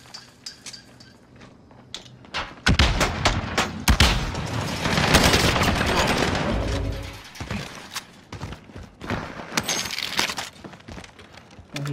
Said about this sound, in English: There's two people in here shooting on our teammate.